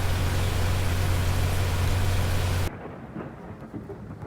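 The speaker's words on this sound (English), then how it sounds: "It's raining hard." Heavy rain and rumbling thunder from the storm-chasing video game Twisted, a loud dense roar filling the first few seconds, then dropping sharply to quieter rainfall.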